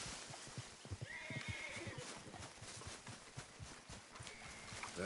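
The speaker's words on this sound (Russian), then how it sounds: "Лошадка, ты ехать будешь или нет?" A horse in Red Dead Redemption 2 gives a whinny over soft clip-clop hoofsteps, both close and at moderate volume with no talk.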